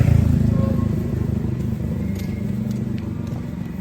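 A motorcycle engine rumbles loudly and steadily on a road nearby, a continuous low drone that fades slightly over a few seconds, with faint crackles on top.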